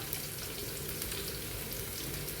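Ingredients frying in a pan for Kerala alissery, a steady broadband sizzle with no break, close and moderately loud, no voices.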